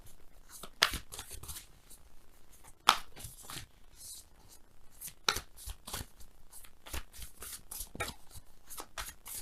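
Tarot cards shuffled by hand during a love reading, a run of crisp riffling and flicking bursts with soft papery slides between them, close and fairly quiet, no talking.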